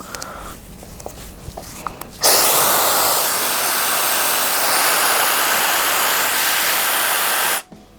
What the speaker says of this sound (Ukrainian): І це у мене не максимальний е, потік повітря, а от другий з трьох.